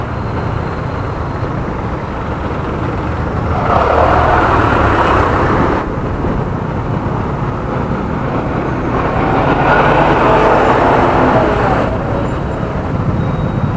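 Dense road traffic near a city circle makes a loud, continuous rumble, with heavier passing swells around the middle and near the end. No voices stand out.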